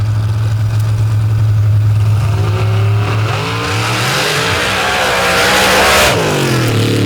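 A racing engine at a championship finals for open-paddle and mod-cut classes roars loud and close through a timed run, its pitch climbing and sweeping as it revs hard, with no voices over it.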